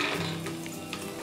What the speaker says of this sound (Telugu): ఆయిల్ వేడెక్కిన తర్వాత 3 టేబుల్ స్పూన్స్ పల్లీలు వేసుకోవాలి.